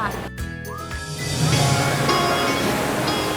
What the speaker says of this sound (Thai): ตอนนี้นะคะเราขึ้นมายืนอยู่ทางด้านบนของน้ำตกรายหรือว่ารายฟอลแล้วนะคะ